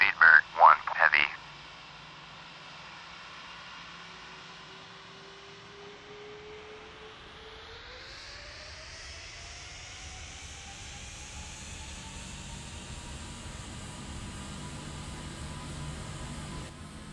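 Airliner jet engines spool up for takeoff in FSX Flight Simulator, a rising whine climbing steadily into a sustained roar over many seconds, after a short burst of radio chatter at the start.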